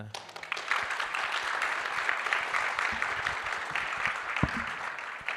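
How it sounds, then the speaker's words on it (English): Audience at a peacemaking technology conference applauds steadily throughout, a dense, sustained wash of many hands clapping at moderate loudness. "So join me for a round of applause."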